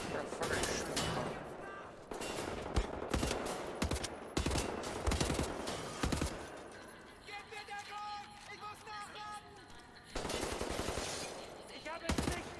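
Enemy gunfire in the Wolfenstein: The New Order shooter, loud rapid bursts of automatic weapons in repeated volleys, easing off briefly in the middle before resuming, with voices speaking in between.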